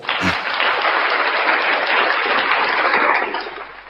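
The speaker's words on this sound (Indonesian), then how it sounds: "Tepuk tangan buat Tuhan" A steady wash of audience applause at a heated religious debate, dense and fairly loud, tapering off near the end.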